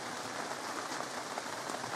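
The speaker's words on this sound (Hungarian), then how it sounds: "így, hogy szakad az eső" Heavy rain pours down steadily in a Hungarian village, a dense even hiss of drops on surfaces with no pauses and no voices.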